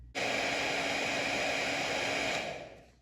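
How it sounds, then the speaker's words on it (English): A hair dryer switches on and blows with a steady, loud rushing whoosh for a few seconds before winding down, heating adhesive to lift tape residue from a box. "get out the hairdryer and hold it up to this for about 15 or 20 seconds"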